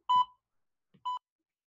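A timer sounds with two short electronic beeps, the first slightly longer and the second coming after a brief pause, clear and close in an otherwise quiet room.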